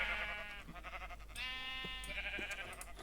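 Sheep in Minecraft bleat repeatedly, several harmonic, wavering calls overlapping at close range over a steady low background hum, with no talking.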